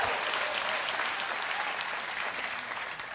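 A studio audience bursting into loud, continuous applause and cheering, dense clapping filling the whole moment.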